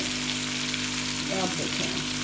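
Pressure-cooked mutton masala tipped into a hot kadai, giving a loud, steady sizzle and frying hiss with some stirring scrapes, close up and continuous.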